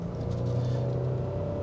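A 2026 Nissan Frontier Pro-4X mid-size pickup with a 310-horsepower engine accelerates, giving a steady, close engine drone and low rumble throughout.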